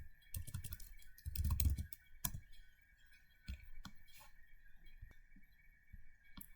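Router commands are typed on a computer keyboard, with quick irregular key clicks and a few heavier taps in bursts, close and quiet over a faint steady hum, with no talking.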